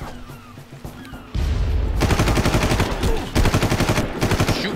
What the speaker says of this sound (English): Let's just go in guns blazing.